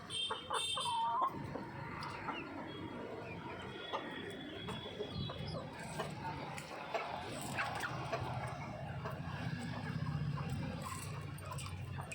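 A flock of chickens in the heat of the sun keeps up a loose chorus of clucks and squawks, with a louder call near the start and faint bird and dog noises further off.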